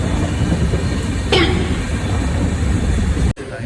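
A train runs steadily with a loud, continuous rumble and rattle heard from on board, carrying on without pause until a brief dropout near the end.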